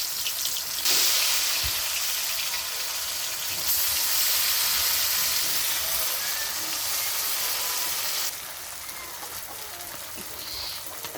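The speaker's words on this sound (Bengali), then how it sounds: "এখন হলো তেলে ভাজবো।" Battered ash gourd leaf fritters frying in hot oil, a steady broadband sizzle and hiss that rises and falls in intensity over several seconds, close and continuous with no talk.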